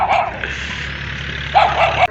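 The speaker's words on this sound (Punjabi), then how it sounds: "ਕੁੱਤਾ ਤਾਂ ਸਾਨੂੰ ਬੜਾ ਸ਼ਦੀਦ ਪੈ ਗਿਆ" A village dog barking and yelping at night, a close, loud bark at the start and another burst toward the end over steady low background noise.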